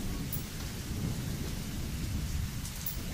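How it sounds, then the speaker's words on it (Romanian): Heavy rain pours steadily during a thunderstorm with tornado warnings, a dense constant hiss over deep continuous rumbling thunder, close and loud throughout with no voices. "A început să tune din ce în ce mai tare și să fulgere, bineînțeles."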